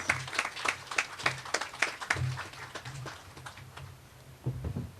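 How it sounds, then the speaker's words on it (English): Scattered clapping from a modest crowd at the opening of the Black River Health Centre in Jamaica, welcoming a health minister to the podium; distinct individual claps stand out, thinning toward the end before a brief final burst. "Give him a round of applause, please"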